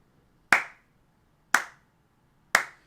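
Hands clap three times, evenly spaced about a second apart, each clap sharp, close and loud, then fading quickly in a quiet room, beating out a steady pulse as a conductor would.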